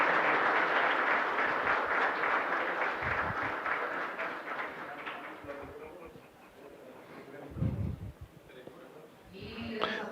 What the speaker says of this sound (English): A round of applause for the National Police of Colombia.